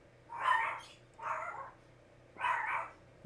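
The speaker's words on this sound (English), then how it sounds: "Oh, apparently the dogs see someone on the street." Dogs barking at someone on the street, three separate bark bursts at an even rhythm, heard fairly faintly and at some distance.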